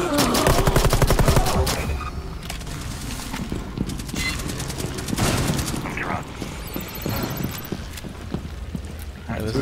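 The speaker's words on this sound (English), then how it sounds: "Grenade out." Rapid bursts of automatic gunfire and a heavy blast inside a casino and resort in a tactical shooter game, loud and close with dense crackling shots, as players call out to each other over the fighting.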